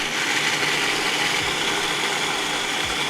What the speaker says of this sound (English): Just be careful when you're chopping things in a blender like that, because you don't want to end up with butter.